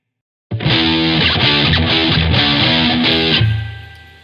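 An electric guitar through a BluGuitar Amp 1 plays a series of chords with a washy reverb tail that rings out as the last chord fades, loud and alone.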